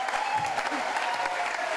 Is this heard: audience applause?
yes